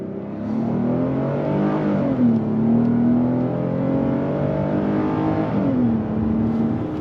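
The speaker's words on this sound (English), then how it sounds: "we're gonna go on throttle from a dead stop" A 2026 Hyundai Palisade V6 with an 8-speed automatic pulls away from a dead stop, engine note rising steadily and loud inside the cabin, dipping briefly at smooth upshifts before climbing again.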